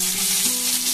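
Potatoes dropped into hot oil with whole cumin, cloves, cardamom and a small cinnamon stick sizzle steadily and loudly, a dense continuous frying hiss with a faint low hum underneath.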